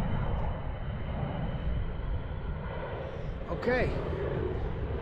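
A four-engine airplane flies over as a steady, loud broadband engine roar that fills the whole clip, with a brief voice speaking near the end.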